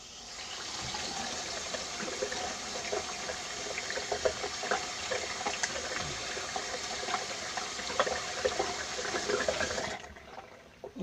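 Water runs steadily from a tap into a sink to rinse a menstrual cup, a soft continuous splash and trickle at close range that cuts off near the end.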